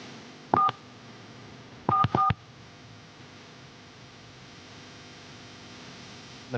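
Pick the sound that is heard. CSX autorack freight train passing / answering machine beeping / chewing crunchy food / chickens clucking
answering machine beeping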